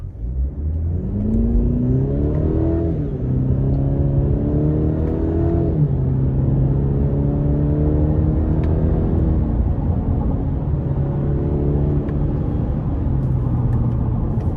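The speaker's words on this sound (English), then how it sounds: "And the exhaust note engine sound is actually pretty good as well, especially in sport." A 2024 Cadillac CT5 Luxury accelerating hard in sport mode, engine and exhaust rising in pitch through several gear changes, with a steady loud drone heard from inside the cabin and no talk.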